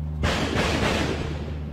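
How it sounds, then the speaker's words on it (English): Mortar fire during an attack in Mozambique: one heavy, sudden blast followed by a rolling, sustained rumble, loud and close, with no voices. "you're talking about hundreds of mortars going off"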